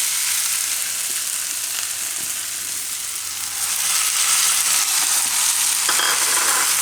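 Yogurt going into a hot pan of fenugreek leaves and green chillies, a steady loud sizzle and frying hiss that swells and grows louder partway through, with faint stirring underneath.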